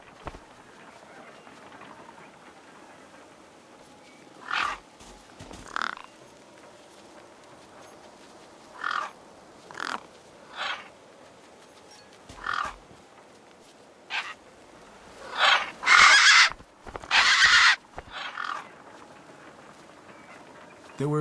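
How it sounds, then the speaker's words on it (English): Birds feasting on a corpse propped against a rock in Beyond a Steel Sky, with scattered squawks and croaking calls breaking over a low ambient bed, growing louder and more clustered toward the end. "No way I was going to get between those birds and their feast."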